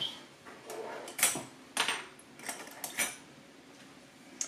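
A metal measuring spoon clinks and taps lightly against containers while black pepper is measured out in a kitchen, a few faint scattered clicks in a quiet room.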